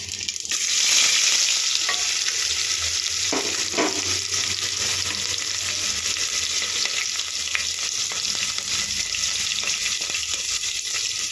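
Onions frying in hot oil with cloves and cardamom for meal maker biryani, a steady close sizzle with a few stirring scrapes early on and no talk.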